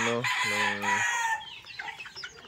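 Young chickens about three months old at morning feeding, a loud close rooster crow with clipped, breaking notes, then scattered clucking from the flock.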